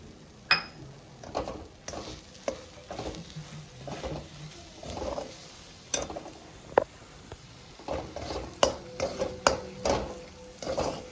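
Kolhapuri misal masala and black masala roasting in a pan, stirred with intermittent scraping and tapping strokes against the metal over a faint low sizzle, close and fairly quiet, no talking.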